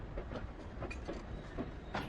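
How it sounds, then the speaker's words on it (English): Train rolling along rails in the Titanic: Honor & Glory video game, a steady low rumble with soft rhythmic clicks from the wheels and no voices. "Come on, train, move a little faster."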